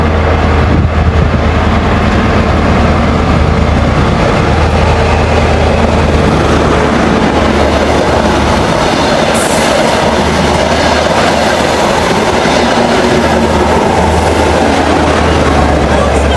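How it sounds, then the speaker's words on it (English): A model railway train runs with its engine revving, giving a dense, loud, continuous rumble with clattering wheel noise and a steady low hum throughout, plus brief faint voices. "they're revving the engine up to get their movement"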